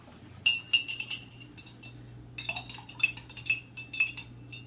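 A spoon stirs caramel syrup into hot fresh-brewed coffee, clinking repeatedly against the cup in quick irregular bursts, fairly faint over a low steady hum.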